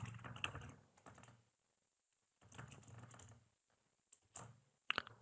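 Keystrokes rattle on a computer keyboard in quick close bursts separated by short pauses, faint and with no talk.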